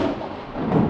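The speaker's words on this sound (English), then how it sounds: "That lightning was like right there." A short burst of deep rumbling thunder from a lightning strike very close by in Mexico, close and heavy, swelling again toward the end.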